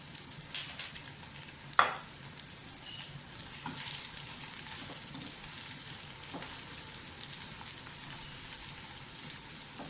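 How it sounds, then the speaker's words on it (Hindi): Cumin seeds and green chillies fry in hot oil, giving a steady close sizzle with a few sharp clacks of a spoon stirring the pan early on, and no voices. "चीज़ों को थोड़ा सा फ्राई करें"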